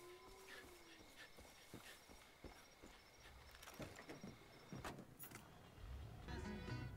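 Vehicle sounds in Far Cry 5 as the player reaches a parked car, with clicks, clunks and a door-like thud, then engine rumble rising at the end over steady game ambience.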